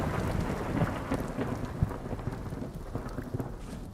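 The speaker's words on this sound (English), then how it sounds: "The anxiety of hearing a storm." Thunderstorm in the survival game Vintage Story: steady heavy rain hiss with low rumbling thunder rolling underneath and a sharp crack near the middle, continuous and fairly loud with no talking.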